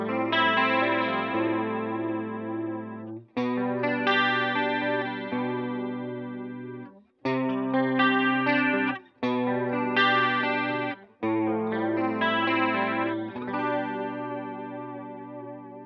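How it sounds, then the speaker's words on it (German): An electric guitar run through an effects unit with a strong chorus effect plays sustained chords in several phrases separated by short breaks, with shimmering tones and no voices. "Es kann zum Beispiel auch ein starker Chorus-Effekt sein, der den Klang total auf den Kopf stellt."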